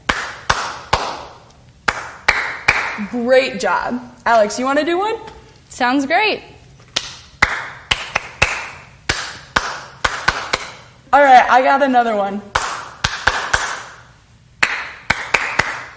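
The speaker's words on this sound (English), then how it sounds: "So I'm going to clap, and then you guys are going to do it after me." Sharp rhythmic hand claps in short patterned bursts, close and loud, alternating with children's and adults' voices speaking and laughing between the sequences.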